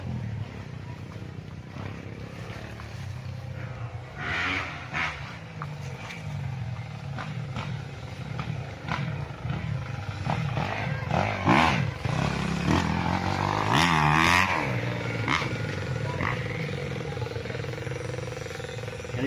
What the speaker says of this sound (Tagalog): dinig na dinig dito ang andar ng mga motor